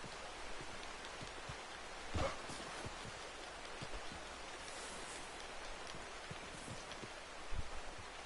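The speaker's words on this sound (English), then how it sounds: "Olha o cavalo." Horse hooves clip-clop in a Wild West video game, a quiet uneven plodding over a steady hiss of rain and rustle, with a couple of louder thuds standing out.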